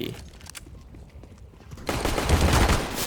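Shotgun or SMG fire in CS:GO crackles in a few quick shots, followed by a loud, rushing wash of noise.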